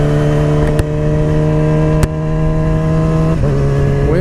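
Yamaha R6 sport bike engine with a quick shifter, humming loud and steady under load with a strong tonal whine, brief sharp clicks of gear changes and a pitch dip as it shifts up.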